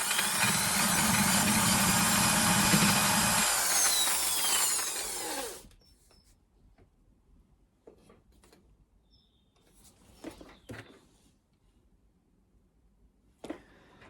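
A power sander with 400 grit paper whines loudly against the handbrake cover of a 1954 oval Beetle for about five seconds, then cuts off, leaving quiet handling clicks and a few knocks.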